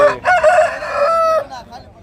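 A rooster crows once, loud and close, at a rooster market in Gudur, a full drawn-out call that rises and trails off.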